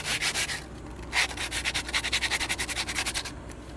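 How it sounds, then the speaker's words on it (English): Hand sanding of an old painted wooden window with coarse 50-grit sandpaper: close, steady rhythmic back-and-forth scratching strokes that quicken toward the end. "So I'm gonna do my best to sand it as well as I can for the client here."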